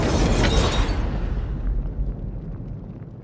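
A big cinematic explosion in a film trailer, a loud roaring boom that erupts at once and then rumbles away into a fading low tail with no voices over it.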